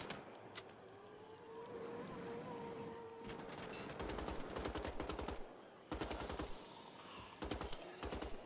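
Gunfire in the video game Wolfenstein: The Old Blood, rapid machine-gun bursts in several rattling volleys, fairly quiet, over a droning game background.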